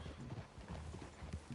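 Horses' hooves clip-clop faintly and at a distance in a quiet clearing, a soft uneven patter of steps with no voices.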